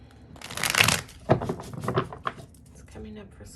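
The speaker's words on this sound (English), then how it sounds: "We're just going to shuffle one more time and then dive in." Rapid papery riffling and flapping of cards being shuffled nearby, in a couple of quick bursts.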